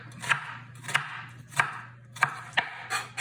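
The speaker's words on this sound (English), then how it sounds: "You take your onion, you've got this holding it all together, the root part, and you just make some straight cuts down it." Knife cutting straight down through an onion on a cutting board, six crisp sharp chops spaced evenly about every half second, close and clear with no talking.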